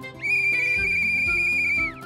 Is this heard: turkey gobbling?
no